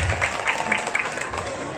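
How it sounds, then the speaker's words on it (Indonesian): Brief applause from a seated audience at a religious talk, a soft, even patter of clapping lasting under two seconds. "tepuk tangan dulu, sudah dijelaskan."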